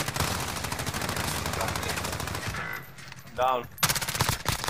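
Rapid hip-fire gunshots ring out in Call of Duty Warzone Plunder mode, a dense stream of loud bursts that stops and then starts again. A player shouts briefly over the fire.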